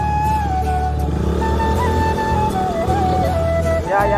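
A KTM RC200 motorcycle is ridden with a steady, close engine drone, which eases and dips toward the end as the bike slows to a stop.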